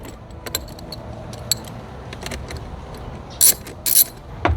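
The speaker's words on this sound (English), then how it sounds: "grab yourself a 10mm. I always start with the negative terminal first. Let's go ahead and loosen that one." A 10mm wrench loosens the negative battery terminal on a Jeep JKU, producing soft metallic clicks and small taps, then two brief, sharper rattling ratchet bursts close by near the end.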